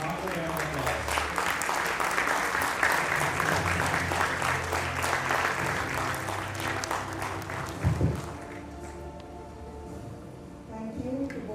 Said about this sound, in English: May I request you all to join me in extending a warm, heartfelt round of applause